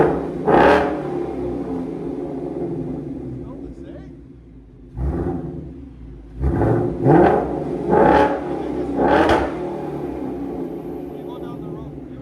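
A 2024 Mustang GT with a Borla cat-back exhaust barks through a series of loud, close revs: one early blip, then four sharp bursts in quick succession, separated by a quieter idle burble.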